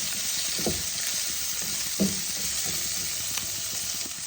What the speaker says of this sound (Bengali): সুন্দর করে লাল লাল করে ভাজবো।